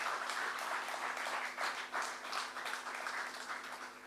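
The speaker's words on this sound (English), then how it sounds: "kindly give Dr. Adesina and Professor Kevin Urama a joint round of applause" At the launch event for the African Development Bank's 2023 macroeconomic outlook, an audience applauds Dr. Adesina and Professor Kevin Urama: a soft, distant, continuous patter of many clapping hands that swells and eases slightly over four seconds.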